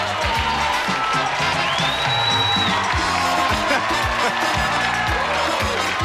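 Studio audience at a 1990 Match Game taping applauds and cheers for the host, a dense continuous wash of clapping with whoops, while someone talks over it near the microphone.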